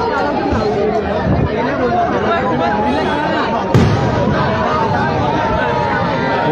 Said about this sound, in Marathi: आर्थर रोडच्या बाहेरच सध्या फटाके फोडण्यात येत आहेत